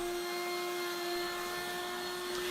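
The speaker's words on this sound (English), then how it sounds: "And I've done this on my router table here." Router table cutting T-bolt slots into a wooden tapering jig makes a steady, loud high-pitched whine with a constant motor drone, continuous and unbroken with no talk.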